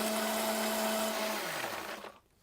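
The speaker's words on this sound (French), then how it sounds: "on prend l'ail, le persil et les amandes. On va utiliser un mixeur." Kitchen blender whirring steadily as it chops garlic, parsley and almonds, the motor pitch holding loud and even before winding down and stopping near the end.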